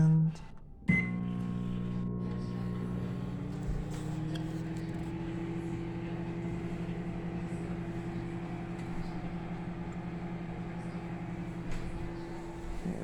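A microwave oven heating popcorn: a click starts a steady, quiet electric hum that runs evenly for over ten seconds, with no popping audible yet.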